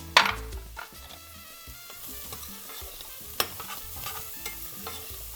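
A chicken stew is stirred in a pot for a Peruvian cau-cau, with steady scraping and clinking strokes over a low simmer and one sharper knock partway through.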